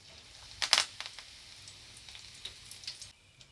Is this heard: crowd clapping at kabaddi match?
no